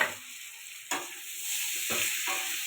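Potatoes with turmeric, chilli and salt are stir-fried in a pan together with beans that were fried earlier. A sharp scrape of stirring comes near the start and a few more follow over a continuous close sizzle, with no speech.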